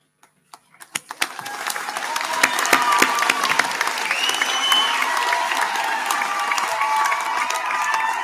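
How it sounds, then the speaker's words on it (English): At a university graduation ceremony, a few scattered claps quickly swell into full, sustained audience applause with some cheering, filling the hall at a steady level to the end. "Graduates, please stand and turn to offer applause to the people here who have supported you"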